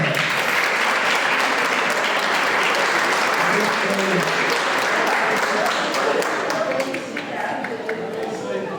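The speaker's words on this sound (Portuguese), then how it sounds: "Palmas para ela" Loud, dense audience clapping at a church festival prize draw continues throughout, tapering slightly toward the end, with faint voices underneath.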